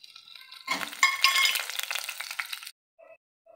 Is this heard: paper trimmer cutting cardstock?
no